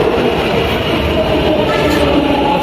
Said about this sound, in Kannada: ಈಗ ಬಂತು ನಮ್ಮ ಒಂದು ಮೆಟ್ರೋ